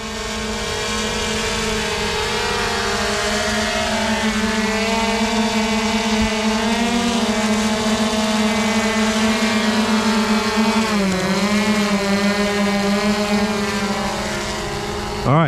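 A Splash Drone 4 hovering over water, a steady loud propeller whine with a strong tonal buzz that holds level and dips briefly as the drone shifts, close and continuous with no talk.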